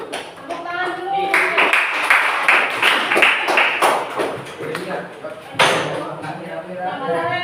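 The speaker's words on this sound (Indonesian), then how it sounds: "Tepuk tangan dulu." Audience applause at the close of a school presentation, a burst of uneven clapping lasting several seconds with scattered voices underneath.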